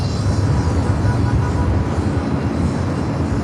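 A jet airliner taxis on the ground at Los Angeles LAX airport, giving a loud, steady low engine rumble with a broad roar that holds evenly and alone for a few seconds.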